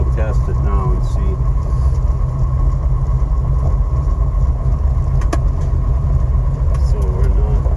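A 1972 Road Runner with a 541 cid engine and four-speed on a test drive, its big engine droning loudly and steadily from inside the car, with brief shifts in pitch and faint talk underneath.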